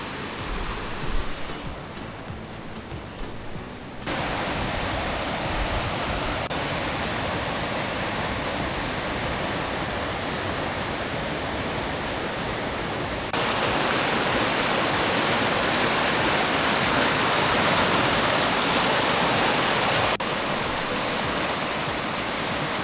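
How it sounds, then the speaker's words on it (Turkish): A strong river rushes through the Şahindere canyon in the Kaz Mountains, a loud, dense, unbroken roar of water close by, with no voices. "Gördüğünüz gibi su müthiş akıyor. Buraya dere demek doğru değil sanırım. Tam bir nehir."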